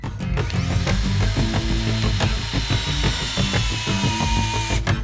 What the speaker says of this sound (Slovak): Tak samozrejme bez predvrtania, rovno do toho a začneme na druhej rýchlosti, kým sa skrutka trochu začne zarábať do dreva.